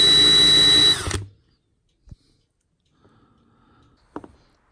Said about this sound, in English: For these little tiny rivets on the grill, I'll turn back to my Vicks bit.